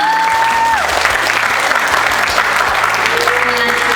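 An audience at a campus seminar on teenage stress gives a continuous burst of loud clapping that stays even throughout, with faint voices mixed in underneath.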